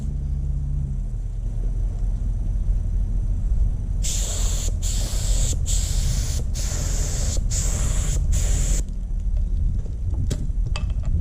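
Spray painting DURAFLEX fender flares for a C5 drift car, six loud hissing spray bursts in a quick rhythm over a constant low background rumble, no talk.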